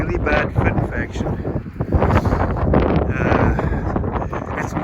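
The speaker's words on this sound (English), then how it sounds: "it's quite noisy, windy out here" Wind gusts buffeting the microphone outdoors on a farm, a loud, continuous broadband rumble that swells and eases throughout.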